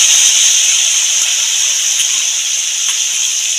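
Tomato paste goes into potatoes that are already frying red in a pan for a Bengali tangra fish curry with potatoes. A loud, steady hiss of sizzling oil runs throughout, with a few faint clicks.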